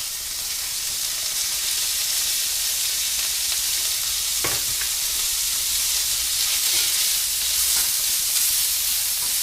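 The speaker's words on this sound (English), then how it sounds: "So you can see that oil just beating off, right? Just beating off. Okay, so throw the beef in there." Thin slices of beef sizzle and crackle steadily in hot, smoking oil, a loud, continuous frying hiss close by, with a brief clink partway through.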